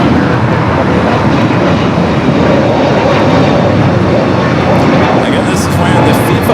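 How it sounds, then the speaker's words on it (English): A TAP Air Portugal airliner arriving at LAX gives a loud, steady engine roar that holds throughout without a break. "we got Top Air Portugal up next for arrival"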